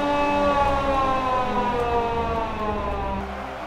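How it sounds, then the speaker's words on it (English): Warning siren in the Ultimate Epic Battle Simulator video game, a loud wailing tone with stacked harmonics that holds steady and slowly fades slightly toward the end, heard alone. "They pulled a siren and everyone held their position."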